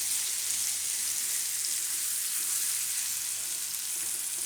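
Raw banana pieces for a Gujarati gravy curry cook in a pan over a low gas flame, giving off a steady, even sizzling hiss throughout with no one talking.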